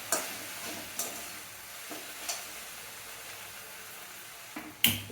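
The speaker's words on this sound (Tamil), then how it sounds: "நடுவில் வெண்டைக்காவை கிளறி விட்டிங்கன்னா இருக்கணும், இல்லைன்னா அடி பிடிச்சிடும்." Okra fries in a pan with a soft, constant sizzle, broken by a few sharp scrapes and clicks as a utensil stirs it, the loudest near the end.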